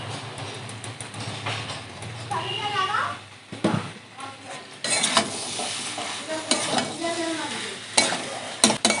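Fried prawns stirred into a spiced young jackfruit curry in a pan, a steady sizzle with scraping stirs and clattering spoon knocks, a voice speaking intermittently over it.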